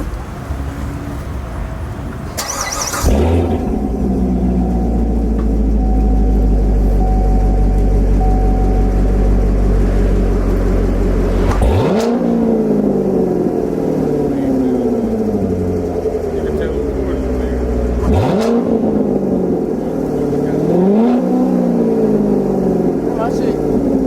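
C7 Corvette fitted with a Corsa Extreme exhaust idles loudly, then revs with deep rising and falling sweeps several times, close by, with talk underneath.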